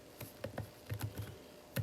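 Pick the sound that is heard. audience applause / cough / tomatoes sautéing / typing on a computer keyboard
typing on a computer keyboard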